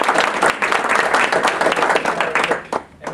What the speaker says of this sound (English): so you deserve a nice round of applause.